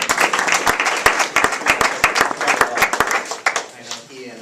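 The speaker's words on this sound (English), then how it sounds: "I think we owe this gentleman just an applause for coming down and for his word." Applause from an audience at a public forum on school funding, a scattered crowd with sharp individual claps standing out in an uneven rhythm, thinning at the end as a voice starts speaking.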